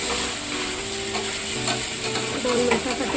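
A cup of rice is stirred in hot ghee for sweet coconut rice, giving a continuous close sizzle with rattling, gritty scraping of grains against the pan.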